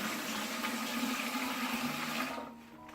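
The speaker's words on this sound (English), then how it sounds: "give it a little cover and a really good watering in again" Water pours steadily from a can into a dahlia pot, a continuous close splashing rush that tapers off near the end.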